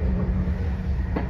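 Train running on rails toward London, a steady close low rumble filling the whole stretch with a brief rattle near the end.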